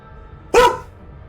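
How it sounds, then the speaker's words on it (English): A small dog lets out a single sharp, piercing bark, loud and close, with quiet surroundings before and after. "She's a very piercing bark as well. It's very hard to ignore."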